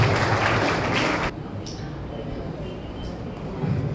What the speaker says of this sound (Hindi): जोरदार तालियों से दोबारा हिम्मत अफजाई करें।